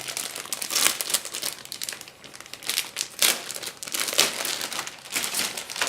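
Plastic packaging and bags crinkling and rustling continuously at close range as a 1/72 Caproni Campini N.1 model kit box is opened and its contents handled, in irregular bursts with no talking.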